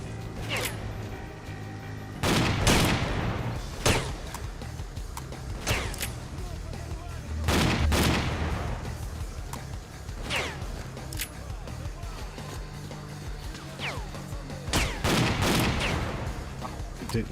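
Shotgun blasts in the S.T.A.L.K.E.R.: Clear Sky game, several loud sharp reports spaced irregularly over a low ambient bed, with people talking between shots.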